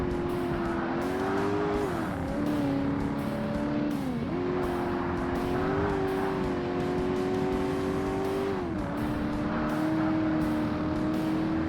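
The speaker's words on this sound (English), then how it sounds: "Car actually has a really nice sound to it in this game." Race car engine from the 2005 Xbox game Forza Motorsport during a professional/classic sports car event, a steady loud engine drone whose pitch dips and climbs with gear changes over about twelve seconds, with no talk.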